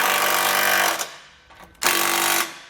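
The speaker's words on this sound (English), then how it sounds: "so we can finish drilling out any holes that we have remaining on this side" A power drill bores holes into the frame of a 2020 Buick Envision while a base plate kit is fitted, giving two loud whining bursts separated by a short pause.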